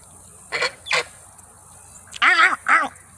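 Ducks and geese playing in the rain give two short honks, then two louder, harsher quacking honks close by, with steady rain hiss underneath.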